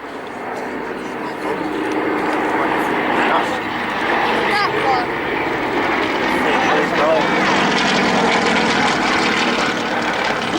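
An aerobatic propeller aircraft flies past at the Cosford airshow, its engine drone loud and continuous with a rising, shifting pitch, while a commentator talks over it throughout.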